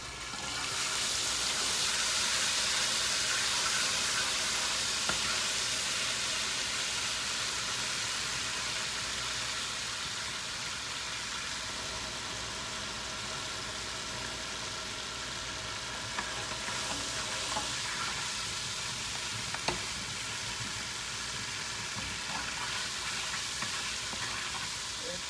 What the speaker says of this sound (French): kounye a m ap mete epis mwen nan l'huile la